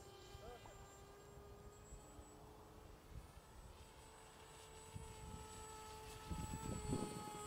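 H-King Bixler 1.1v2 foam RC airplane flying on a windy, gusty day, a faint steady motor whine overhead that swells louder near the end, with talk over it.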